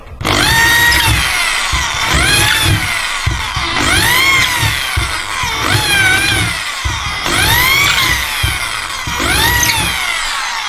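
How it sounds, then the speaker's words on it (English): A power tool cutting through a gyprock wall in several loud, close bursts, its whining pitch rising and falling with the load, separated by brief pauses. "Okay, once that's drilled through, that just falls out, and I can put the bracket on there."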